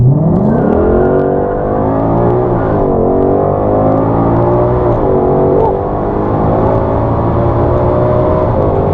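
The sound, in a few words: 2020 Shelby GT500 launch control acceleration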